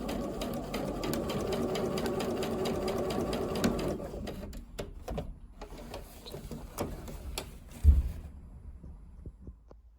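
A sewing machine runs steadily while stitching a reinforcing seam on a jumpsuit's front sleeve, a fast mechanical chatter for about four seconds, then stopping into scattered clicks and a soft thump.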